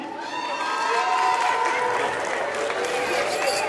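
Crowd at a U13 youth football tournament cheering and applauding the winning team, a dense steady roar of clapping and shouting voices throughout, fairly loud and continuous.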